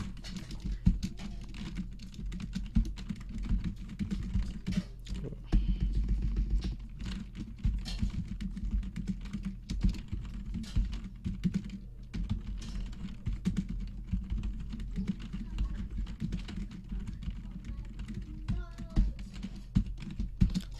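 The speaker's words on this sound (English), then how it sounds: "after you finish writing the code, you just press the enter key" Typing on a computer keyboard while writing Python code, a steady patter of close key clicks with irregular rhythm and a few heavier strokes, continuing for about twenty seconds over a low background hum.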